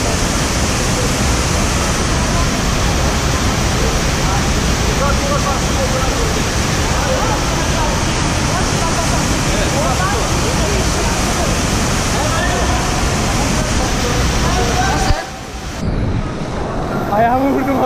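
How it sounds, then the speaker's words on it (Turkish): Waterfall inside the Wadi Mujib canyon in Jordan, a loud unbroken roar of rushing water filling the space, close by, briefly dipping near the end as if the microphone is shifted. "İşte şelale."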